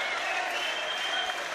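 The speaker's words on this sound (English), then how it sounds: "Adam Booth just leading the applause for him" Brief, dense applause from a boxing crowd for a boxer, steady and moderately distant.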